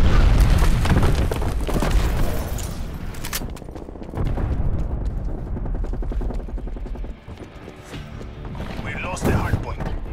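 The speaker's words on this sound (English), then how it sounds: "Semtex grenade." Semtex grenade blasts go off in Call of Duty: Black Ops Cold War, loud booming bursts with rumbling gunfire and layered battle noise over roughly ten seconds, heavy at the start and again near the end.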